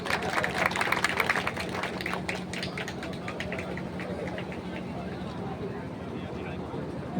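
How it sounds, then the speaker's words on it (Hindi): Crowd applause at a public event honouring helpers in the Gonda Dibrugarh Express train accident rescue, clapping strongest at the start and then thinning to scattered claps over a steady background hum. "एक बार सरिता जी के लिए जोरदार तालियां।"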